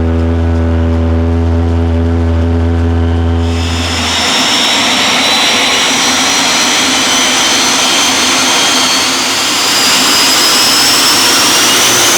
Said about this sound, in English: So now we're going to attempt to move the car on its own thrust.